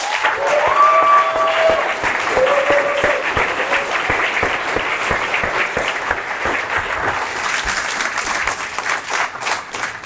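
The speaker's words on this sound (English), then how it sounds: "I want to give the whole ClickFunnels family a big round of applause" Enthusiastic audience applause for a company team at a live event, steady dense clapping throughout, loud and continuous with some cheering tones early on.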